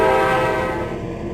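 Electric AEM-7 locomotive horn in the Trainz simulator game, a loud steady harmonic chord sounding for over a second with no break, close and unaccompanied.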